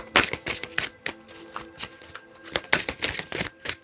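A deck of tarot cards shuffled by hand: repeated crisp riffling and slapping bursts in an uneven rhythm, close and fairly loud, with no talking.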